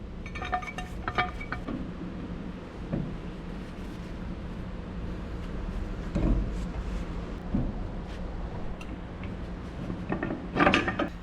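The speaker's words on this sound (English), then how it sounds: "I'll get it with this pipe wrench while it's right here and get that taken care" Pipe wrench tightening a fitting on a processor machine in a cramped spot, faint metallic clinks and scraping ratchety movements at a few scattered moments over steady background hum.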